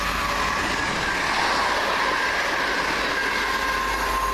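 A London Midland train passes through Cheddington station, a loud continuous rumble of wheels on rails with faint squealing, steady and close throughout.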